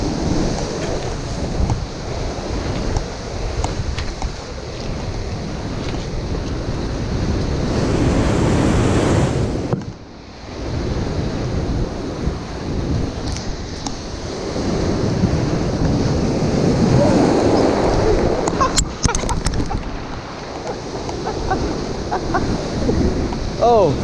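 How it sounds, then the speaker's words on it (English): Ocean waves break on rocks along the Southern California coast, a loud continuous roar of surf with wind buffeting the microphone and surges rising and falling. "got waves already in SoCal."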